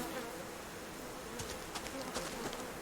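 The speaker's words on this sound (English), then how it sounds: "I can hear bees." Bees buzz in the Subsistence survival video game, a faint droning hum with a few brief louder passes over steady outdoor ambience.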